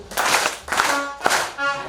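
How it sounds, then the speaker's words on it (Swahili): A church congregation claps in unison three times during a Sunday worship service, three sharp bursts of many hands spaced about half a second apart, with faint voices underneath. "Makofi mazuri kwa huyu Yesu."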